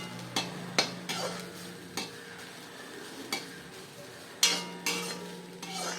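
Ingredients dry-roast in a pan, marked by a series of sharp spoon scrapes and taps against the metal with a light crackle between them; the sounds are close, intermittent and fairly quiet.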